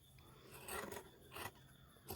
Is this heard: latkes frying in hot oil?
no